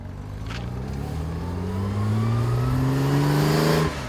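A road-legal Lister Knobbly racing car's engine climbs through a long, loud rev, pitch rising steadily over several seconds before cutting off abruptly near the end, close and alone.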